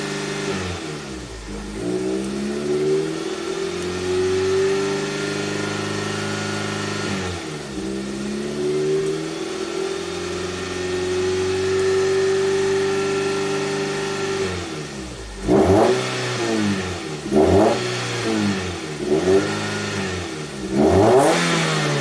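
A 1987 Toyota MR2 engine idles steadily at close range, then revs up in a slow swell and a series of quick repeated blips, with no talk.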